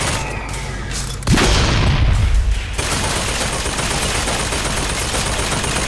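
A barrel explodes in the video game Bioshock Infinite with a sudden loud boom. A rumbling burst follows, then a sustained noisy wash of combat sound.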